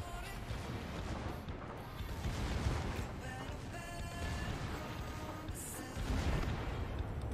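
Battleship Colorado firing a naval gun salvo in the game World of Warships, heard as heavy, muffled booms and rumbling impacts under a continuous dense noise bed, with no clear speech.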